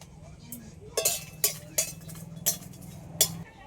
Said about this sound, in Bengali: এবার মাখিয়ে নেব কড়াইটা বসিয়ে দেবো শুকনো কড়াইয়ের মধ্যে চারটে শুকনো লঙ্কা দিয়ে দেবো